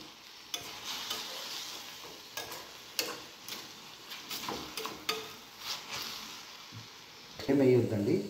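Beetroot fry being mixed in a pan gives soft scraping and intermittent ticking stirs with a gentle sizzle underneath, a louder clatter near the end, and a voice talking quietly at times.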